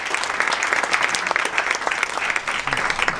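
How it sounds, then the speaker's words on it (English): An audience at a corporate design culture event gives a loud, dense round of applause, a continuous fast patter of many hands clapping close by. "So give him a big round of applause."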